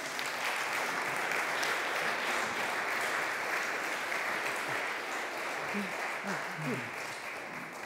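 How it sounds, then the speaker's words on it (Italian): Sustained applause from a crowd, dense steady clapping throughout, with a voice briefly speaking beneath it near the end. "invito allora Romolo Notaris e Aramis Dozio ad accomodarsi con un applauso"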